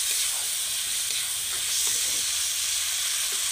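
Spice paste for a potato and dried-fish curry sizzles and hisses in hot oil after a little water is added, a steady close frying hiss with small crackles.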